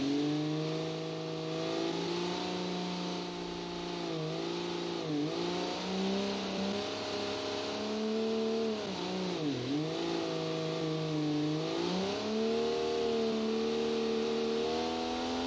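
Car engine in the BeamNG driving game revving steadily and continuously, its pitch rising and falling through repeated throttle changes with a few dips as it slows, loud and close, with no talking.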